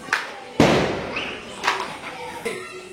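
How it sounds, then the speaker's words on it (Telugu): Firecrackers go off on a festival night, with three or four sharp bursts and thuds at irregular intervals, moderately close. "ఇక్కడైతే బాంబులు పేలుస్తున్నాము"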